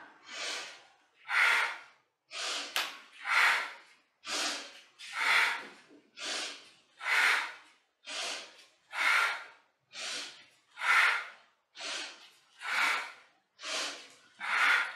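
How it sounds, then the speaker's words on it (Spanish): Forceful rhythmic breathing in a Kundalini yoga practice, about fourteen loud, breathy inhale-exhale pulses at a steady pace of roughly one per second, close to the microphone with no talking. "Respiración poderosa."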